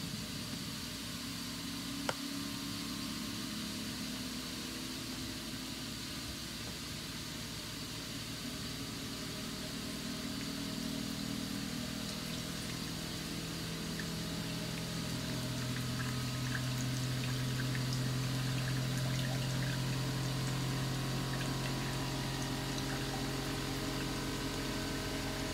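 A Panda spin dryer running with water draining out, a steady hissing, rushing flow over a low motor hum that swells slightly louder midway and holds near and continuous, with no talk.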